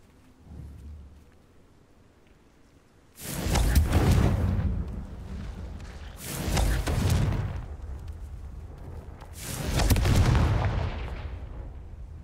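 Three heavy booming blasts from the Confringo blasting spell in Hogwarts Legacy, each a loud close burst with a rumbling decay, spaced about three seconds apart after a quiet start.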